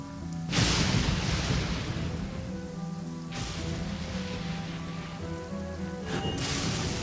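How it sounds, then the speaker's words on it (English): Steady rain hiss in Genshin Impact with a low rumbling bed and tonal game music or ambience, swelling in bursts a few times. "Let us find shelter from the rain."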